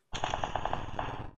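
Rapid automatic gunfire from PUBG Mobile, a string of about seven quick, evenly spaced shots, loud and close, with a final shot after a short gap.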